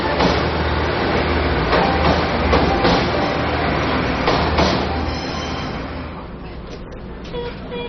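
A narrow-gauge train on the scenic Pingxi Railway, originally a coal line to Keelung, rumbles and clatters loudly and steadily along its tracks, the roar easing slightly toward the end.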